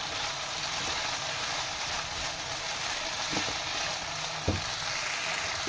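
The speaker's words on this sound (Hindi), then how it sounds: "अब जैसे ही आलू इसमें थोड़े बहुत फ्राई हो गए तो मैं इसमें गाजर भी शामिल कर दूंगी और इसको मिक्स करूंगी।" Potatoes frying in a pan at home, a constant broad sizzling hiss at moderate level with a couple of soft utensil clicks, no voices.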